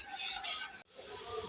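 Steady sizzling and scraping of chana dal and chicken curry being stirred in a pan, close and continuous, with a brief drop in sound partway through.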